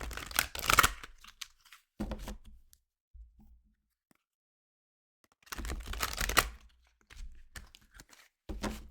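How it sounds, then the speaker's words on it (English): Tarot cards being shuffled by hand in two bursts of dry, papery riffling and flicking, close and fairly quiet, with small taps and handling sounds between them and no talking. "We'll give them a bit of a shuffle."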